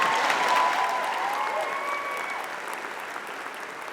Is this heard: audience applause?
yes